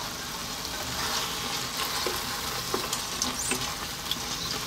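Prawns frying in a curry sauce give a steady, close sizzle with occasional stirring scrapes and soft pops throughout.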